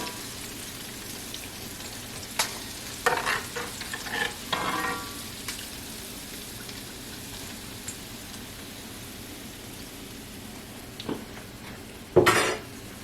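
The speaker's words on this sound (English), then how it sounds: "You gotta fry them on high because it don't take that long for them to cook." Soft, steady sizzling of shrimp frying in hot oil on high heat runs throughout, with a few scattered clinks of cookware and one louder clatter near the end.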